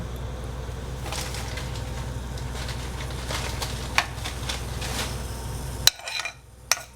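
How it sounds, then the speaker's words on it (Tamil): Mustard seeds in hot oil crackle and pop steadily with scattered sharp spits, then quiet abruptly near the end with a few last pops and a clink. "கடுகு பொரிஞ்சது."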